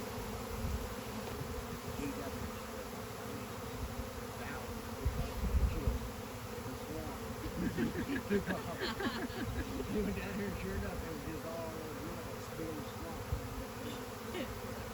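A swarm of honeybees buzzes as someone walks into it, a dense continuous drone filling the air at a fair distance, with faint talk underneath at moments.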